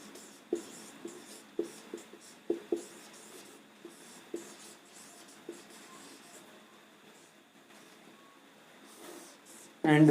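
Writing on a board comes through as a series of sharp, faint taps and scratches, clustered early and thinning out later, heard alone against a quiet room before a louder burst at the end.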